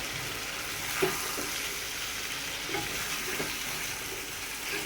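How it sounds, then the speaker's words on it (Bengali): Spices for a chicken curry sizzling and frying in a pan, a steady broadband hiss with occasional scrapes and taps of a stirring spoon, close and alone with no talking. "এখন মশলাটা একটু ভাজা ভাজা হয়েছে"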